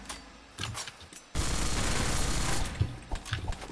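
Gunfire in the top-down battle royale game surviv.io: a few sharp shots early on, then a sustained rapid burst of automatic fire lasting over a second, followed by scattered single shots.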